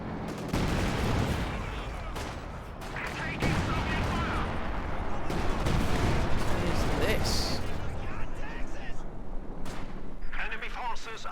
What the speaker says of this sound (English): Oh, was this barrage, was it?